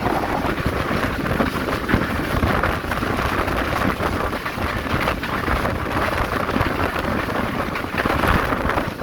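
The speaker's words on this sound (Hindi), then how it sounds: "बारिश का सिलसिला जारी है" Steady monsoon-season rain hisses and patters continuously beside a flooded railway track on a Karachi Express train journey, with gusty wind noise buffeting the microphone and no voices.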